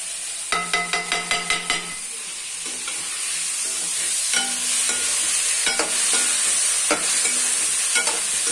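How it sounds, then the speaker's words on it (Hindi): Tomato mixture fries on high flame while being stirred, giving a steady sizzle throughout, with a quick run of clinking spoon strikes against the pan early on and scattered scrapes and taps later. "थोड़ा सी तेज फ्लेम करते हैं ताकि थोड़ा सा इसमें मॉइस्चर कम हो"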